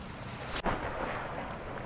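A single sudden splash into filthy water in the Black Mesa video game, a sharp plunge followed by a steady churning, watery rush.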